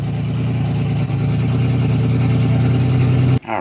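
A Nissan Skyline R32 engine idles steadily with a low, even rumble, close and continuous, with a brief dip near the end.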